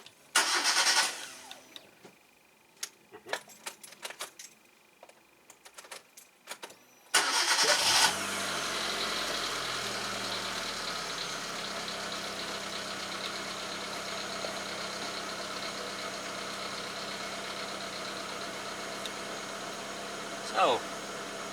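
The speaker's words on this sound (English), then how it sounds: "Now let's start the engine." A 2005 Hyundai Accent cranks briefly and catches, settling into a steady, even idle that runs on alone, preceded by scattered clicks and handling noises in a quiet workshop.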